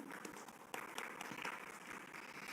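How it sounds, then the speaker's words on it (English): Audience applause for a guest speaker at a national media conclave plenary session: fairly faint, distant clapping from a hall, a steady patter with a few sharper individual claps standing out. "Please have a round of applause for him."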